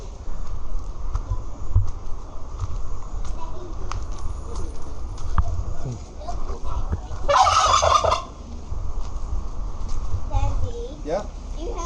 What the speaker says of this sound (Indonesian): Ayam kalkun guys, gede banget.